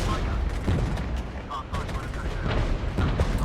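Artillery fire in the Regiments war game rumbles as dense, continuous booming and crackling blasts, with distant explosions layered over one another and no pause.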